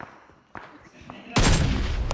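A bomb detonates in the mobile shooter BGMI, a sudden loud broadband blast after quieter game noise and faint voices, sustaining a rumbling roar to the end.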